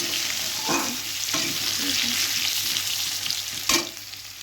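Potatoes frying in oil in a wok, a steady close sizzle with occasional scraping stirs of a spatula, no talk.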